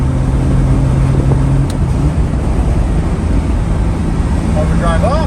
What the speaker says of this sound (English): So in fourth gear you can see Overdrive works, and you can cruise all day long.